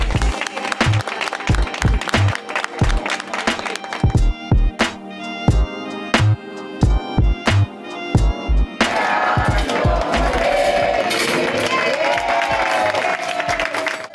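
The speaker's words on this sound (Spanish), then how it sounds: "yo creo que se merece el aplauso" Applause from a crowd at a camper meetup in Sahagún, Spain, first heard as sharp repeated claps and bursts over music-like tones, then swelling into a steady, dense wash of clapping for the final several seconds.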